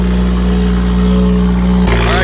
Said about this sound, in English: This is the cold start.